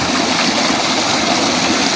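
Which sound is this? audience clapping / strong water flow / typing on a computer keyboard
strong water flow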